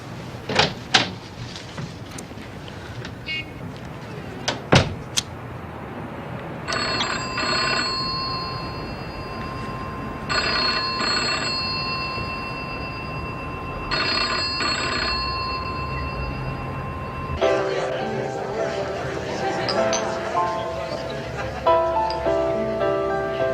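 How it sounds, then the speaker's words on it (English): Telephone ringing indoors in repeated double bursts of an electronic bell, with brief pauses between rings, over faint background noise and a few knocks before it starts. "If the phone rings, don't answer it."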